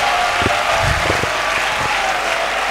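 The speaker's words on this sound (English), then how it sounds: "keep clapping" An audience at a girls' school old girls' association gathering claps and applauds continuously, a thick even wash of hand claps with a few low thuds and faint crowd noise beneath.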